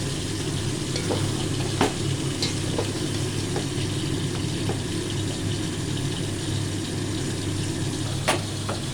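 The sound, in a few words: stirring and mixing shahi simai vermicelli in a pan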